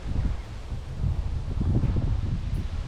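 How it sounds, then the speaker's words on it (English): Strong gusting wind roars and buffets the microphone under trees on a windy, muggy day ahead of threatened thunderstorms, with a dense low rumble and faint leaf rustle throughout, no voices. "I don't know if you can hear me because of the wind."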